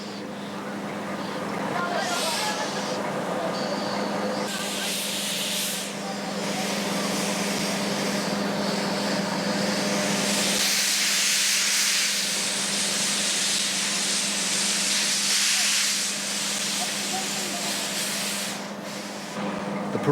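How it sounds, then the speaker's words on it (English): Four steam locomotives stand in steam together on Eritrea's revived railway. Loud, sustained hissing swells in and out with broad bursts of venting steam, and some rail noise carries beneath. "4 locos, all in steam together, on a railway that had been officially closed over 25 years before"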